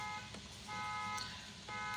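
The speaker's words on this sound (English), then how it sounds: "somebody got to put the alarm on in the middle of my video" A car alarm blaring outside, a steady repeating electronic tone cycling in pulses, heard continuously and fairly loud with no voices over it.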